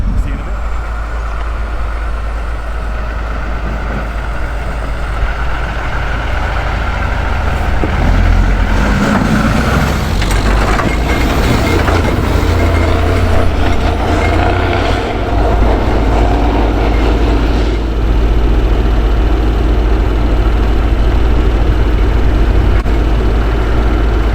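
A tractor engine idles as it warms up on a cold start, a steady low rumble running throughout and fairly loud, while people talk over it at times.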